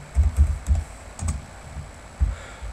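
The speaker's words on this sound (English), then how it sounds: "go to Google and type oCam." Several close computer keyboard keystrokes in short irregular bursts, typing a search into Google, with soft clicks and brief pauses between groups of keys.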